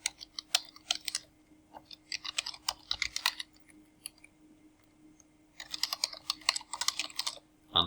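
Typing on a computer keyboard, close, crisp key clicks in quick irregular bursts separated by short pauses, over a faint steady hum.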